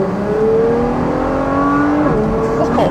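A Ferrari LaFerrari accelerating on a race track, engine pitch climbing through rising harmonics and shifting gears, loud and sustained from inside the car, with a voice talking over it.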